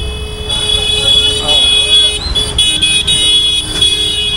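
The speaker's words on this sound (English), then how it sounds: "Oh, and the honking continues." Car horns honk amid busy Delhi street traffic, several tonal toots overlapping and recurring over a constant roar of engines and road noise, with voices talking nearby.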